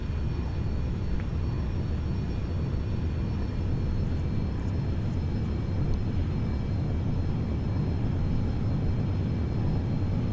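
A Boeing 737-800 rolls down the runway for takeoff in X-Plane 11, a constant deep engine rumble and roar, loud and unbroken throughout.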